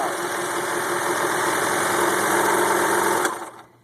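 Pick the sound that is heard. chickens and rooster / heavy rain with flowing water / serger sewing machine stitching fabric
serger sewing machine stitching fabric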